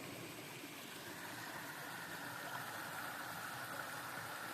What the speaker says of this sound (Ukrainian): Малесенький такий водоспадик. Це з-під гори виходить ця річка.